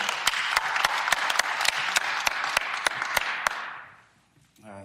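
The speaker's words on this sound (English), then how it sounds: "Let's give a big round of applause for the man standing strong for his family, Mr. Rodney Wells." Audience applause at a press event where a victim's family speaks, steady dense clapping under sharp camera-shutter-like clicks, fading out near the end before a brief rustle.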